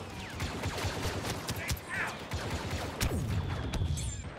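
Blaster fire in Star Wars Battlefront 2, a busy battle mix of repeated sharp zapping shots and impacts at moderate volume, some close and some farther off, with no clear talking.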